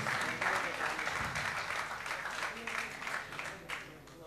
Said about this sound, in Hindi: एक बार जोरदार तालियां हो जाएं अभी एहसास जी के लिए।